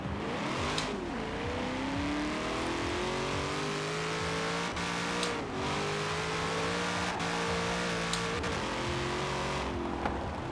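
A Cadillac CTS-V with a drift build doing a standing burnout in the racing game Forza Horizon 4, its engine held at a steady high rev with a droning, slightly wavering tone and faint tire noise, loud and continuous with no talking.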